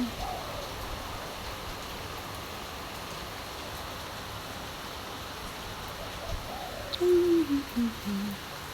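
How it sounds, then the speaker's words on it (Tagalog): Steady heavy rain pours in Singapore as a constant hiss, and a faint descending hoot-like call rises over it near the end. "Nagbuhos na ang ulan."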